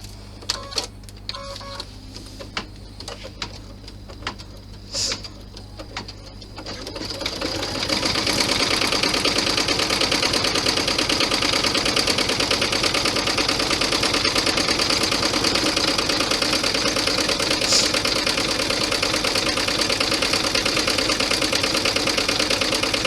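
A sewing machine stitches fabric for a Santa bag, starting with a few brief clicks and short bursts before settling into a steady, continuous whir that runs close and loud to the end.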